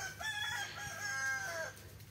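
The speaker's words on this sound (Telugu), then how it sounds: "అవన్నీ కోళ్ళు." Farm chickens and a rooster cluck and crow together, a short burst of fowl calls heard faintly from a distance.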